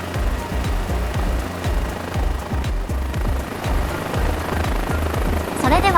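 A Cabri G2 helicopter in the Microsoft Flight Simulator 2024 game chops steadily with a fast, rhythmic rotor beat over an engine hum, loud and continuous.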